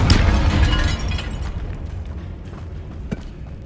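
A fire-blast spell explodes in Hogwarts Legacy, inside a tomb: a loud, sharp blast that rolls into a long, decaying rumble with scattered crackles, near and alone.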